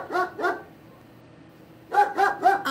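Two sharp dog barks close by, a short pause of quiet, then three more barks in quick succession.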